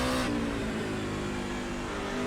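A NASCAR truck engine in the iRacing game roars at high revs during a race, a loud steady drone with a strong tonal whine that holds throughout.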